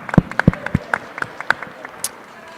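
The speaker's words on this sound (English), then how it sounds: "Can we give a round of applause to the restaurant and the bar this evening" Audience applause at an agtech investment summit, scattered individual claps that are sharp and close, sparse rather than a full ovation, with faint crowd murmur underneath.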